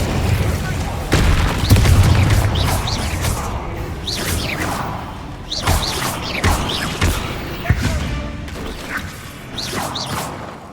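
Repeated Incendio fire blasts in Hogwarts Legacy, fighting spiders: several sharp booming bursts with swooshes and crashing impacts, spaced unevenly over busy combat ambience.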